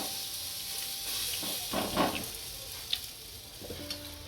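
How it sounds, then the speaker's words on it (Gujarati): Pudla sandwich bread frying on a pan, a continuous close sizzle with a brief burst of scraping as the bread is flipped, then soft clicks; no talking. "આપણું બ્રેડ એક બાજુ સળી ગયું છે આને ફેરવી નાખશું"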